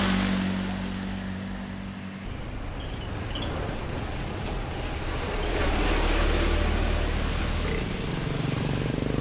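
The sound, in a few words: vehicle passing by on a road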